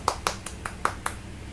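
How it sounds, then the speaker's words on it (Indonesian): A class of fourth-grade primary school pupils claps in a classroom, six sharp, close claps falling in a steady rhythm before quiet returns. "Tepuk tangan."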